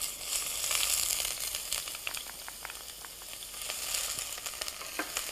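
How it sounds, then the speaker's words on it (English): Fresh ginger and green chilies sauté in hot ghee for a vegetable curry, giving a steady close sizzle with crackling pops throughout. "So ginger and chilies are sautéing away"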